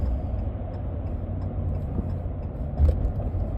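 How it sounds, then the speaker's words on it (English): A car drives and merges into traffic, giving a steady low road rumble and engine hum inside the cabin, with a brief clunk near the end; no one speaks. "Merging on the traffic here."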